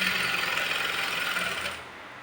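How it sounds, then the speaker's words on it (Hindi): A sewing machine double-stitching the hem of a patiala salwar: a steady, close mechanical whirr of rapid stitching that runs briefly and then stops. "तो यहाँ पे मैं सिलाई को डबल कर लूँगी"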